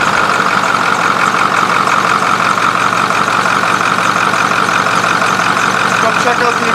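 A Ford 6.4 Powerstroke diesel with cracked pistons runs steadily, a loud low rumble with a rough, even pulsing throughout, heard close up.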